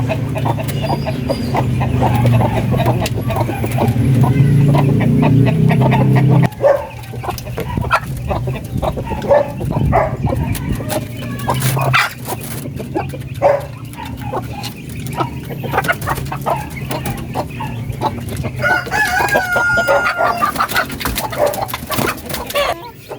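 A native darag chicken clucks repeatedly up close, with a loud low rumble in the first seconds and scattered sharp clucks and scratchy movement afterward.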